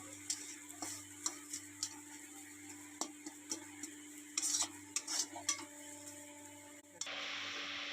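A utensil stirs and scrapes soybean paste with a little ghee in a pan, producing scattered light taps and clicks over a quiet background, then a sudden louder sizzle near the end.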